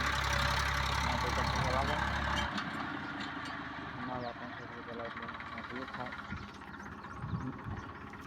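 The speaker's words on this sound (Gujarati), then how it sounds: "મારા બાપાનું ટ્રેક્ટર" A tractor engine idling with a low, steady rumble that drops out after the first couple of seconds. Speech and other background activity run over it.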